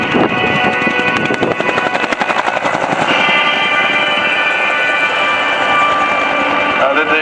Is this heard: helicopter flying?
yes